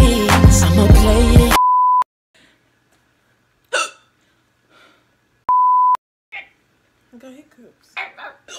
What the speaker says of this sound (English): Got hiccups.